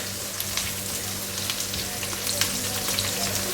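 Food frying golden on a well-used tawa griddle, a steady close sizzle with scattered crackling pops throughout, a low hum underneath and no talking.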